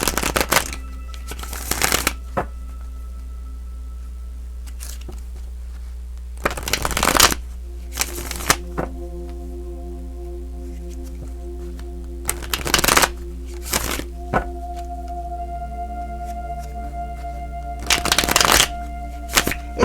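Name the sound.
shuffling tarot cards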